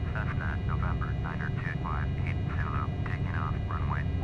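Twin engines of a Cessna 404 Titan in Flight Simulator X hold a steady, loud drone during takeoff, continuous throughout with speech-like tonal chatter layered over it.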